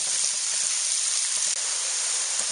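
Onions caramelizing in a wok for a Norwegian casserole give a steady, close sizzle and hiss that runs evenly throughout with no voices.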